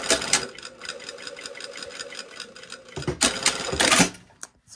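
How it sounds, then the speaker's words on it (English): Sewing machine running a straight stitch at 3 mm length through knit fabric with a ballpoint needle, a steady close mechanical whir with short pauses and a louder burst near the end, no talking. "I've got a ballpoint needle on my machine, and I'm sewing with a 3 mm stitch length"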